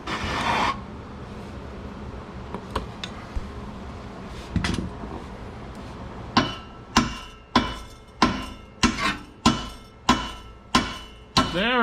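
Hammer blows land on a Nissan 370Z Nismo while an AAM Competition S-Line short tail exhaust is fitted: about ten sharp, evenly spaced metallic strikes, loud and close, after some earlier scattered knocks and clatter.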